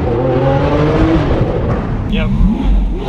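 Lamborghini Aventador engine revving loudly and close, a rising and falling roar with a sharp high burst near the end, while people speak over it.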